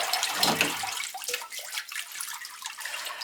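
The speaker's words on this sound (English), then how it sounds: "I'm going to actually just give it another little rinse straight through into my bowl" Running water pours through a sieve into a bowl as kale is rinsed, a close splashing gush that starts strong and settles into a steadier trickle with scattered drips, no voices.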